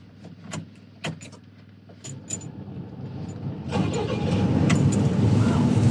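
An old bulldozer engine cranks and catches after a few sharp clicks and clunks, then settles into a steady, loud diesel rumble that builds toward the end.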